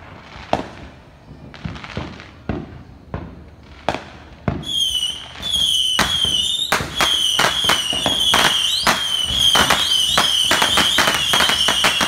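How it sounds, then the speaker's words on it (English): Fourth of July fireworks go off outdoors: several separate loud bangs at first, then a dense stretch of rapid crackling bursts and whistling shells going off continuously near the listener. "I want to share with you guys my 4th of July fireworks"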